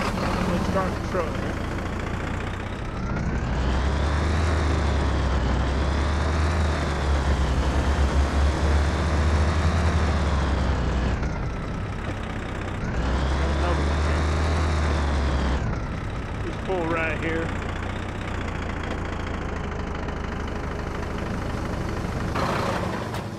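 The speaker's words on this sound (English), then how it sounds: "Let's start the truck." Truck engine in the video game Road Maintenance Simulator starting up and settling into a steady, droning idle with a low rumble that shifts slightly in pitch, while someone talks over it throughout.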